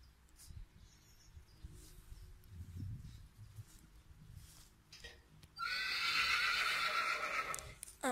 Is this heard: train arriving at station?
no